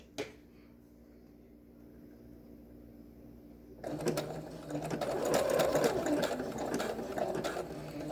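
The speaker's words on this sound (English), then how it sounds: "Lift the presser foot. Place the paracord. Tug the corner. Drop the foot. Zigzag stitch." A sewing machine zigzag stitching paracord onto a fabric face mask starts after a few seconds of quiet handling, then runs in a steady, close mechanical whir that grows slightly louder and continues to the end.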